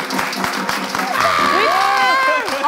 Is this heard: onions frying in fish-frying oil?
no